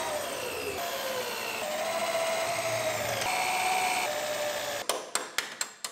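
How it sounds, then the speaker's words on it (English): A power drill whines steadily as it bores out spot welds on rusty frame rails of a 1965 car, pitch rising and shifting, then a run of sharp metallic knocks close by at the end. "Now we'll drill out our spot welds."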